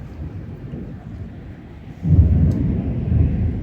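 Low rumbling thunder from a heavy storm rolls in midway, swelling and lingering over a background of wind and rain noise.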